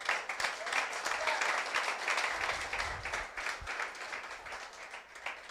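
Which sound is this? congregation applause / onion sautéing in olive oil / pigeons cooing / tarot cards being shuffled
congregation applause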